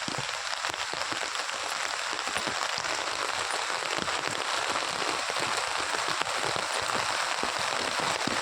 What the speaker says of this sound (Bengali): এই যে প্রচণ্ড বৃষ্টি হচ্ছে